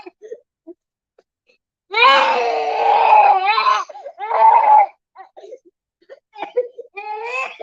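Close and loud, a young child screams and wails in long drawn-out bursts, broken by short whimpers and pauses.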